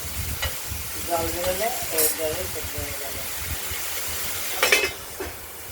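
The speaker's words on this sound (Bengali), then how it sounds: "ততক্ষণ ঝিঙেটা ভাজা হতে থাকুক।" Chopped ridge gourd fries in a pan with a soft, steady sizzle and occasional stirring clatter, while a person talks over it intermittently.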